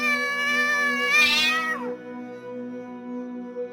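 A black cat lets out a long, drawn-out yowl that rises and wavers before sliding downward, followed by a quieter sustained tone, close and alone with no talking.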